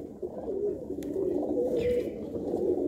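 Pigeons, both males and females, coo softly and continuously over a low murmur, with a faint higher chirp partway through and no voices.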